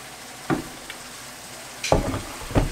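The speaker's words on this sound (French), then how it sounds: "L'oignon et le poivron et on va le faire cuire jusqu'à ce qu'il ramollisse et qu'il soit cuit." Onion and bell pepper cooking in a pan, a faint continuous sizzle broken by three quick utensil scrapes or stirs, close by.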